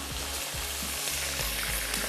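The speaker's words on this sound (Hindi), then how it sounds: "चिकन डाल के फ्राई करेंगे। हमेशा की तरह तेज़ तेल में" Chicken pieces fry in hot VTF vanaspati vegetable ghee over high heat, a loud continuous sizzle close by, broken by a couple of short dips and occasional stirring knocks.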